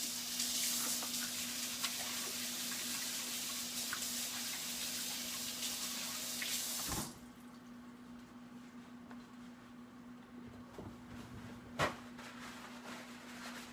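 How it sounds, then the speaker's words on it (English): Hands are washed under a running kitchen tap, a steady, close hiss of water for about seven seconds. It cuts off abruptly, leaving quiet room tone and a single soft knock. "Let me wash my hands."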